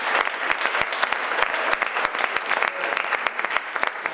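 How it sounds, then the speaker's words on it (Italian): A studio audience claps steadily and loudly throughout, a dense patter of many hands with no break. "grazie per questo applauso"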